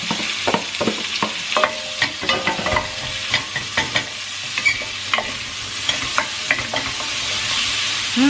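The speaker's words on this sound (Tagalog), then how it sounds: "dito ko din i-sauté yung garlic tapos daming onion" Garlic and plenty of onion sautéing in a pan of oil, a steady sizzle broken by repeated close scrapes and clatters of a spatula stirring, with no voices.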